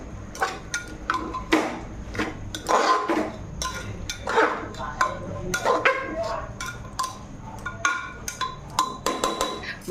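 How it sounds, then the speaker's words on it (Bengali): Bottle gourd is stirred into spices in a pan for goat fat curry, with irregular metallic clanks and scrapes of a spoon against the pan repeating throughout. "সব লাউটা দিয়ে দিয়েছি আর লাউটাকে ভালো করে মশলার মধ্যে মিক্স করে নেব।"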